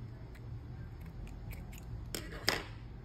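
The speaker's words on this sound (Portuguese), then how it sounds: "Agora a gente vai cortar o fio." Scissors snipping yarn thread while crocheting a sunflower napkin holder: a couple of crisp close cuts near the end, the last one the sharpest, over a steady low background hum.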